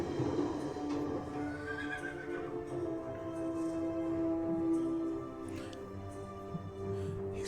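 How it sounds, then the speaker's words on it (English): A horse whinnies in a Western-themed game with dinosaurs, a long wavering neigh with clip-clop and steady background noise, no talk over it. "The horse did it."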